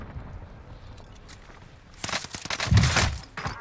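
Bursts of gunfire in Call of Duty Warzone, a battle royale shooter, grow loud and rapid toward the end after quieter ambient footsteps and movement.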